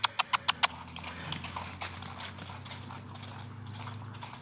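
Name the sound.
horse trotting hooves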